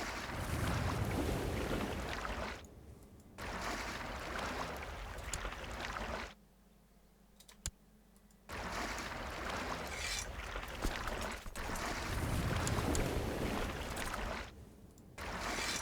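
Ships at sea in the strategy game Crusader Kings II, a steady broadband wash of water and wind that drops out to near silence midway, then swells back up loud and continuous.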